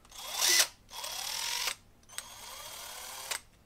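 A cheap Amazon impact driver runs in three separate bursts, whirring and rattling close by with a slightly rough tone, each burst stopping abruptly.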